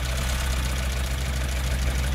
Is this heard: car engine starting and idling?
yes